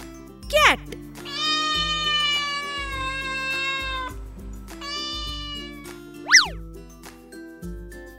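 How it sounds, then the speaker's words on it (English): A domestic cat meows in a children's animal-sound lesson, with two long drawn-out meows plus short rising cries and a boing-like effect over a plinking background melody, close and clear. "Cat."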